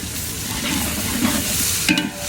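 Garlic sizzles in hot oil, a steady close hiss with a short sharp scrape or clink near the end.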